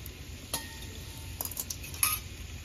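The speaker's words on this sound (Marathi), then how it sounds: "आता ह्यामध्ये आपण कांदा, टोमॅटो, खोबरं ऍड केलेलं आहे ते याच्यामध्ये मिक्स करून घेऊया." An onion, tomato and coconut masala is stirred in a pan over a wood-fired stove, soft sizzling under scattered scraping clinks of a spoon against metal, fairly quiet, no talk.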